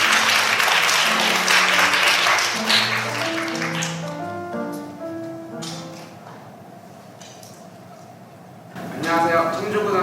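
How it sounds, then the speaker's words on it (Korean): An audience gives strong applause for a high school contestant at a youth science-talk competition final. The dense clapping is loud at first, then tapers off, and a voice speaks over the fading claps. "여러분 힘찬 박수 부탁드리겠습니다."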